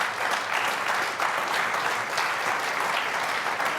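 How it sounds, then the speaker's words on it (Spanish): A church congregation at a Spanish-language service bursts into steady, dense applause for the Lord, many hands clapping together for a few seconds, loud and close with a faint crowd murmur beneath. "dele fuerte aplausos al Señor."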